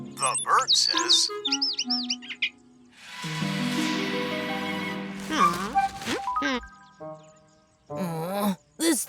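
In an animated cartoon, a bird gives a series of high, warbling chirps and trills, with several bursts spread between stretches of animated character voices and a long sustained tone in the middle.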